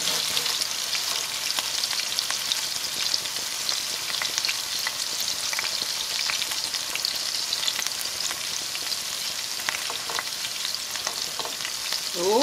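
A burger patty frying in a pan with onion and oil, giving a steady loud sizzle with crackles throughout and no voices.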